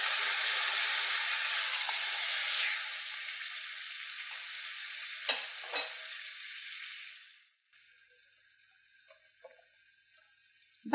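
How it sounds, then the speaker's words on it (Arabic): Tomato juice poured into a pan of softened onions and peppers sets off a loud, steady sizzle that fades and drops away, with a few faint clicks and stirs after it. No one speaks. "اول ما تدبل البصل مع الفلفل رح انزل عليهم بصلصة الطماطم، بعصير الطماطم اللي جهزناه مع بعض"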